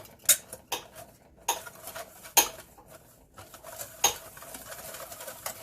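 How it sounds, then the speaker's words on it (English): Whisk scraping and clinking against a bowl as dry pudding ingredients and salt are stirred together for Mexican chocolate pudding, a run of sharp metallic taps over a steady soft rattle, close by with no talk. "Let's break it up and whisk it"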